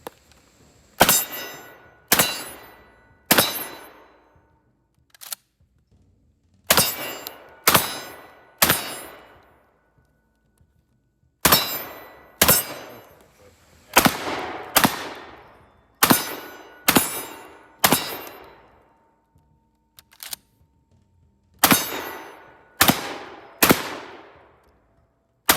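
IWI Tavor TS12 combat shotgun firing outdoors, about twenty loud booming shots in quick pairs and short strings, each with a ringing decay, separated by brief pauses.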